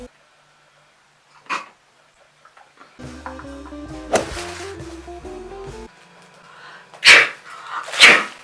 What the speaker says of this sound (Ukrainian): Сейчас чихну, подожди. Ой, да, классно чихнула